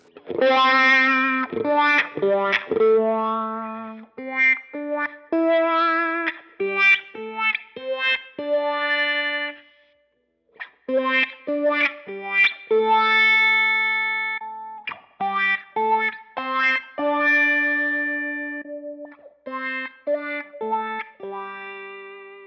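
Electric guitar phrases played through a sweeping wah effect modeled on a Line 6 Helix, notes vocal and throaty, in short bursts with a brief pause midway.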